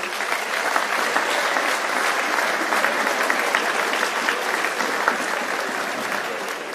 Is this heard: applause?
yes